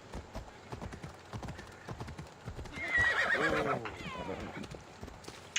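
Horse Phobos in Assassin's Creed Odyssey: rhythmic hoofbeats clatter, then a loud, drawn-out neigh rises and trails off mid-clip, with game ambience underneath.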